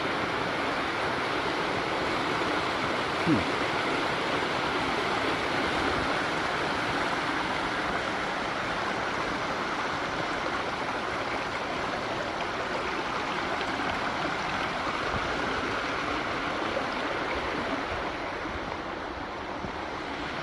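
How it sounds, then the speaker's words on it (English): Steady, broadband rush of falling water at Etiwanda Falls, Southern California, fills the whole stretch at an even, loud level, like a nearby waterfall, with no voices. "I want to see this waterfall from all angles."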